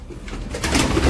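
Pigeons kept in a loft coo close by in a short, soft, throaty burst that swells briefly, with no talk over it.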